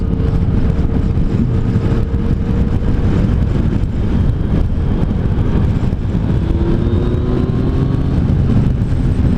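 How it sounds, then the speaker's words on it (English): A loud Yamaha FJ-09 motorcycle engine drones steadily up close, its pitch rising and falling as it revs through the gears, with no voices. "That's some good engine noise."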